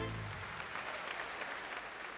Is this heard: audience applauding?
yes